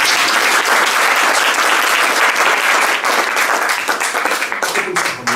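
Sustained, loud applause from a concert audience after a nocturne performance, steady throughout and thinning slightly at the end.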